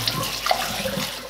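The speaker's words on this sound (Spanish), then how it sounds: "tenemos que enjuagarlas hasta que el agua salga totalmente clara" Tap water runs steadily into a sink while thinly sliced potatoes are rinsed, giving a continuous close splashing hiss with no talking.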